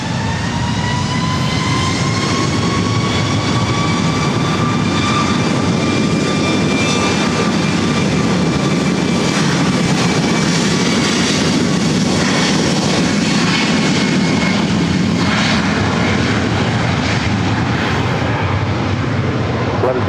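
An Alaska Airlines jet airliner, a 737-900ER at LAX, roars loudly and steadily for twenty seconds, with a rising and falling engine whine over a broad rumbling rush.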